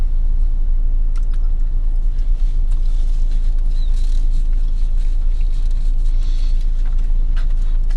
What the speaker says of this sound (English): I'm talking to you from my car.